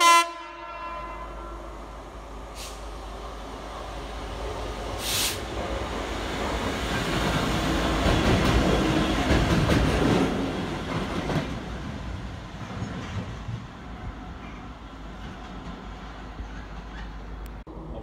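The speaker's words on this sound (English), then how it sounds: "It's one of the DB66s pulling in to the Stone Market down goods loop." A DB Class 66 diesel locomotive running as a light engine pulls slowly into a goods loop, a steady rumbling engine drone swelling to a peak mid-clip and easing off, with a couple of faint brief high squeals.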